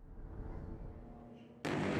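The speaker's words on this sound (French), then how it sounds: "les explosions ont à nouveau retenti dans le ciel noir de Gaza." Nighttime airstrikes over Gaza: a low, distant rumble gives way to a sudden loud blast that stays heavy and sustained to the end.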